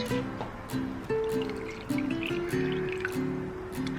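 Thick liquid cocoa and coconut mixture drips and trickles into molds in a series of short, close pours with soft splats and squishy drips, plus faint clinks in between.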